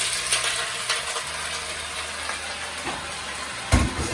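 Diced apples sizzle in melted butter in a pan, a steady broadband crackle and hiss with a few soft stirring clicks and a sharper clatter near the end, close and fairly loud, with no talking.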